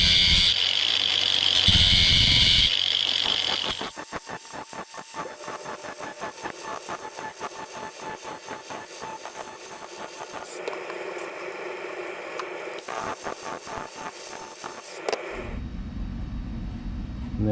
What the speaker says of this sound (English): I'm basically just going to sharpen the edge of these teeth